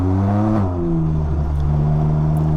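A Can-Am Ryker three-wheeled motorcycle rides a muddy dirt road, its engine holding a close, steady droning hum whose pitch drops partway through, then settles into an even rumble.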